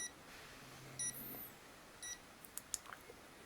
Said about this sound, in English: When you have the audible beep come on, you can press the button and it will turn that off